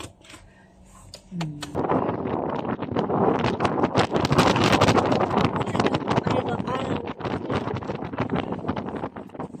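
Strong wind gusting at Ocean Beach in San Francisco, a loud broadband roar that rises after a quiet opening and buffets steadily, with people talking underneath.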